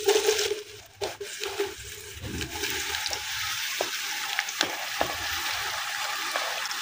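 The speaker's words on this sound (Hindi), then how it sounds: "सबसे पहले हम प्याज फ्राई करेंगे और उतने प्याज डालेंगे जितने हमारे आसानी से जी फ्राई हो जाएंगे।" Onions frying in hot ghee in a village kitchen, a dense, continuous sizzle and crackle with a few sharper pops and clatters, fairly close and unbroken by speech.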